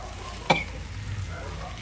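Cauliflower with spices cooks in a frying pan with a soft, steady sizzle. A single sharp clack of the spoon against the pan marks a stir.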